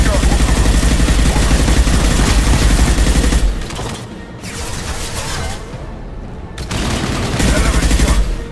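Heavy sci-fi gunfire from an impact shot in the Mass Effect video game: loud, dense bursts of shots with booming impacts, dropping briefly then returning to sustained firing.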